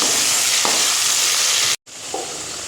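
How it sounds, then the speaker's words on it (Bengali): Large cut potato pieces for chicken biryani fry in hot oil with a loud, steady sizzle close by, broken by a moment of silence and faint stirring knocks. "এই একই তেলেই ভেজে নিচ্ছি। আলুটাকেও কিন্তু একদম লাল লাল করে ভেজে তুলে নেব।"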